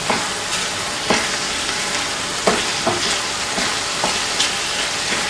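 Onions sautéing in olive oil in a pan for stuffed peppers give a loud, steady frying hiss, broken every second or so by sharp spoon scrapes and knocks against the pan.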